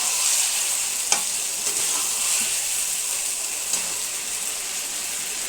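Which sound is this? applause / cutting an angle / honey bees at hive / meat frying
meat frying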